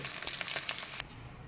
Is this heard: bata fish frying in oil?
yes